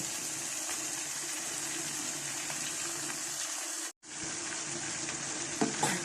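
Vegetables and boiled macaroni sizzle steadily in a hot pan while being stirred, a close, continuous frying hiss broken by one brief pause.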